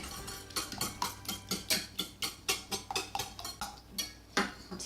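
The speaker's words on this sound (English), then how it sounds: "Give it a little bit more of a whisk." Eggs, milk and salt being whisked in a bowl, a quick, even run of light clinks and scrapes close by, repeating about three times a second.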